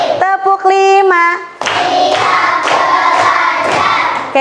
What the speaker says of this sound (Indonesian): Kalian masih ingat tepuk konsentrasi yang 1 sampai 5?